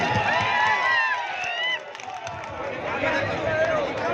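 A large crowd at an outdoor election rally in Bihar greets Mukesh Sahani with continuous loud cheering, shouting and clapping, dense and sustained throughout.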